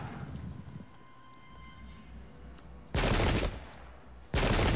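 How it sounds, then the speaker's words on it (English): Volleys of musket gunfire from the video game Pike and Shot crash out in two loud, sustained bursts, the first over a second long and the second cut off at the end, after a quieter stretch of low rumbling battle ambience. "They did shoot."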